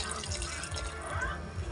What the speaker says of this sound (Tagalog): Magdadagdag tayo ng sabaw.